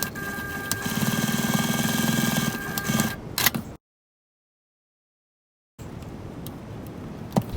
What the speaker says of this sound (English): now we're going to do some top stitching from those marks